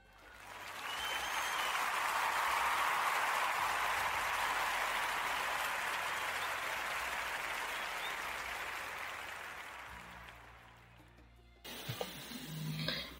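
Sustained audience applause on a radio podcast show, loud and steady for about ten seconds before fading out, followed by a brief burst of other sounds.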